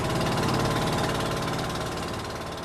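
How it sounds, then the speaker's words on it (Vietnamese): A boat motor runs steadily on a fishing boat at sea, a continuous mid-pitched mechanical drone with a rhythmic knocking pulse, loud and close, with no voices over it. "tiếng máy chạy"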